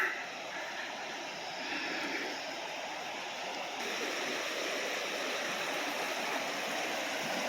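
Heavy rainwater runoff rushing loudly and steadily nearby, a continuous broadband wash with no voices.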